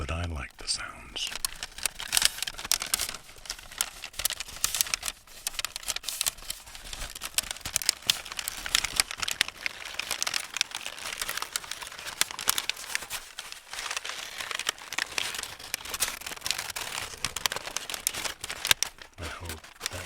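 Stiff recycled paper crinkles and rustles close up almost without pause, with dense crackling handling noise and quieter stretches near the end.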